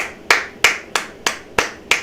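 Close, sharp hand claps hitting a microphone during a Lions football game broadcast, six crisp strikes in a steady rhythm about a third of a second apart, each with a quick decay and no voices.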